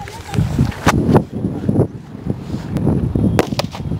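A Sivakasi firecracker bursts in a series of sharp, loud cracks and pops spread across a few seconds, with chatter and background movement between the bangs.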